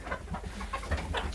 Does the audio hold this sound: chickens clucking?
yes